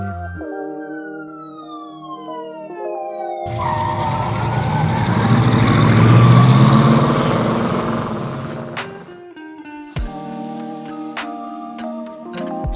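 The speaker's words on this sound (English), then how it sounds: "Police cars from my miniature police station rush to the accident scene to secure the area." Toy police car sirens on a 1/64 scale miniature accident diorama, electronic wailing and sweeping tones loud and near, with a noisy rumbling passage in the middle and beeping siren tones returning.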